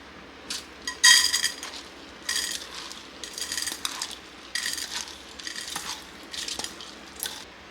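Washed split moong dal being tipped into a metal pressure cooker, heard as a series of bright rattling clinks and scatters of grains against steel, several short bursts with pauses between.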